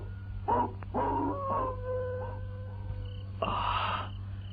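Howls and yelps from wild dogs roaming into a village at night, several drawn-out wavering cries rising and falling at moderate distance over a low steady hum, fairly faint overall.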